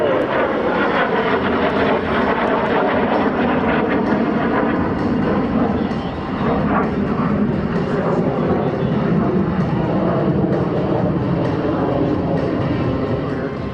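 A MiG-17 jet running with afterburner at the Wings over Solano airshow at Travis AFB, a loud, sustained roaring engine rumble that stays steady and close for the whole stretch, with faint crowd sounds beneath.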